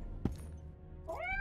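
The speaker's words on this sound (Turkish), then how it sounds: "Kedi." A cat in The Witcher 2: Assassins of Kings gives one rising meow near the end. A soft thump comes just before it, over quiet game ambience.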